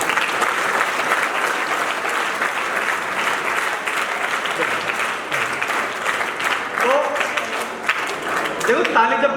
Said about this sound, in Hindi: ताली जब बोली जाए तब बजाना, ऐसे बजाने से कोई फायदा नहीं।